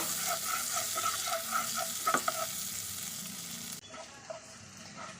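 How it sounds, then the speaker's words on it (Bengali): Chopped ginger and garlic sizzling in a pan for corn mushroom soup, with a steady frying hiss, a few scraping stirs and clinks of a spatula, the sizzle dropping quieter near the end. "আদা রসুনটা কিছুক্ষণ নেড়ে নিয়েছি"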